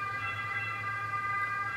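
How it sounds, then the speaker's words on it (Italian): An ambulance siren sounds steadily from a street, a sustained wailing tone with no talk over it, fairly distant and moderately quiet throughout. "Facciamo passare l'ambulanza."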